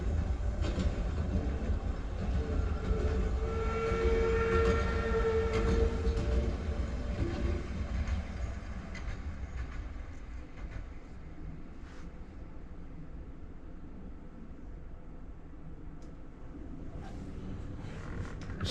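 Train on the Western and Atlantic Railroad rumbling past, a continuous low roar with rhythmic clatter and a brief tonal hum, gradually fading into the distance.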